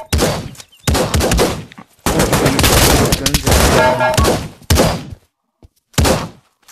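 Bursts of AK rifle fire in the VR shooter Pavlov, loud and close, with several short volleys and one long sustained stretch of rapid automatic shots separated by brief silences.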